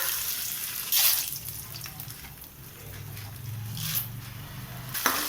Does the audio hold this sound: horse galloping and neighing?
no